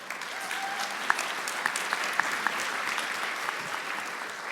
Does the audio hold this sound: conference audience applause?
yes